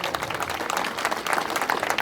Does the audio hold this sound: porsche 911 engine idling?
no